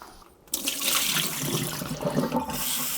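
Water rushes steadily for basmati rice being rinsed, starting abruptly after a brief quiet moment and continuing as a loud, continuous splashing flow close by.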